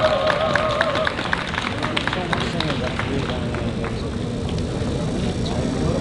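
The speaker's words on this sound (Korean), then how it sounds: "큰 박수 부탁드립니다." A crowd at a student candlelight rally at Seoul National University claps and cheers, a dense, fairly loud wash of applause that continues throughout.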